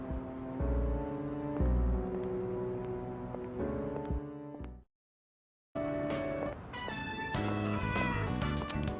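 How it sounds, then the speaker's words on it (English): A cat meowing in the video game Persona 3 Reload, repeated tonal mews over musical game sound, with a brief silent gap midway before the meows resume more loudly. "Was that a cat's meow?"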